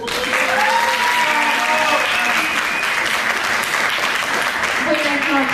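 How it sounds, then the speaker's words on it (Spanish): Audience applause fills a theater before a storytelling performance, a dense, steady clapping that holds at full level throughout with a few faint voices mixed in. "No escuché ese aplauso"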